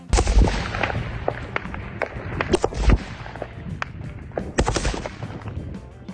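Bursts of gunfire crack out in rapid strings, with several sharp shots and short automatic volleys echoing outdoors at close range, aimed at a reconnaissance drone.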